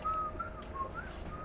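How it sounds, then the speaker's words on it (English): A whistling pet from the video game Warcraft gives a short, wavering melodic whistle, with a few rising and falling notes over steady low background noise. "I've got the pet in Warcraft that just sometimes goes do do do do do do do do. Actually, it goes. It whistles."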